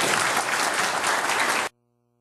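An audience at a Rotary Club probate debate applauds the candidates with dense, loud, even clapping that cuts off abruptly after less than two seconds.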